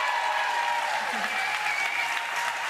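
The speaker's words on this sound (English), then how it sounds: "Give yourselves a hand." Audience applause fills the hall at the Patriot Awards event in Hollywood, Florida, a dense, steady wash of clapping that stays loud and continuous throughout.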